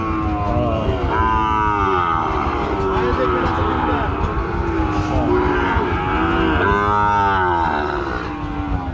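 Cattle at a Rajshahi calf and cow market low and moo over a steady crowd din, with people talking throughout and the lowing rising clearly in a couple of stretches.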